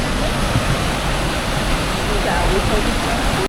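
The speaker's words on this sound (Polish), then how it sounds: "To są pierwsze mini wodospady." Small waterfalls along a hiking trail to Avalanche Lake produce a loud, steady, broadband rush of falling water that continues unbroken, heard close up with no pauses.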